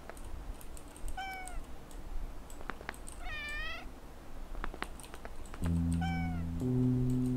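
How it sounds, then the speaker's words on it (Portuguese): A video game cat in OneShot gives several drawn-out, wavering, demonic meows and yowls, separated by pauses and sharp clicks, with a low steady hum joining near the end. "Aí um dos gatos faz aquele som, né, de demônio de novo."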